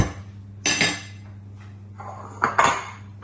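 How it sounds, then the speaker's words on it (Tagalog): A utensil stirring chicken saluna and vegetables together in a cooking pot, giving two bursts of metallic scraping and clanking, close and fairly loud, with quiet pauses between. "I-mix na natin lahat. Sabay-sabay na."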